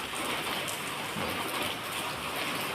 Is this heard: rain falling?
yes